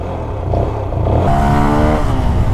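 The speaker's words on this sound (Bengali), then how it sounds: "এক্সজস্টের শব্দটা বুঝতে পারতেছেন" Exhaust of a QJ Motor Monster SRK180 motorcycle under way, a steady close engine rumble that swells and settles into a smooth, even drone through the second half.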